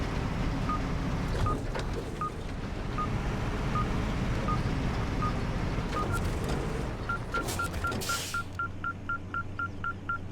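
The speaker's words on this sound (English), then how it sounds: "the beeping starts to increase the closer you get" A metal detector in the video game Expeditions emits evenly spaced electronic beeps that speed up into a rapid run near the end, over a steady windy, rumbling outdoor background.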